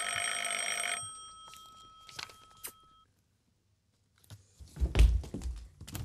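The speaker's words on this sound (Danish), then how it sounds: "Det ringer faktisk på døren" A doorbell rings indoors for about a second, with ringing chime tones lingering a couple of seconds longer. Scattered thumps and footsteps follow after a short silence.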